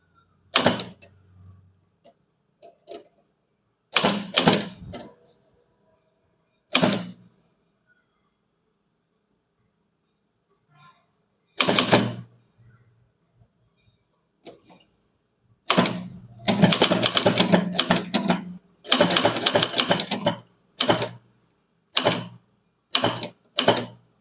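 Tamil letters are typed on a typewriter in bursts of rapid, sharp mechanical clacks separated by pauses, with a longer dense run of keystrokes near the end, close and clear with no talking.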